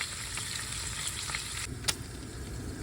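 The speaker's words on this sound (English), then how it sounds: "Frying up some beef, people." Steady sizzling of beef frying in a hot pan, a continuous crackle with occasional louder pops, close by and without voices.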